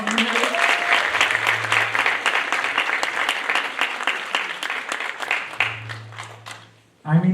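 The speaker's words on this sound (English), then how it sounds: "Can I get another round of applause?" A large audience at a 2025 celebration event claps continuously in dense, sustained applause that gradually fades toward the end, with a brief burst of sound right at the close.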